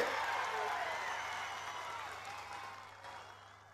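Crowd at a Congress party rally in Kollapur applauding, a dense wash of clapping that slowly fades over a few seconds, with a steady low hum underneath.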